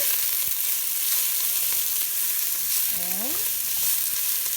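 Onions and garlic sizzle in a little olive oil in a pot, a steady close frying hiss with a few scraping stirs and a brief clink of the spoon, no talking.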